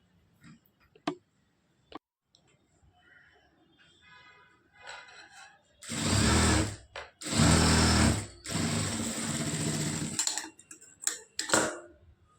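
A sewing machine stitches the V-shaped strip of a lined blouse in loud, close, separate runs, each lasting a second or more, with short pauses and a few light clicks between them. No one speaks.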